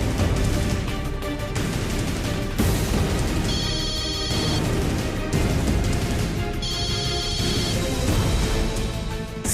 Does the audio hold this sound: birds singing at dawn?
no